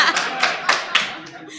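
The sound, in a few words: audience hand claps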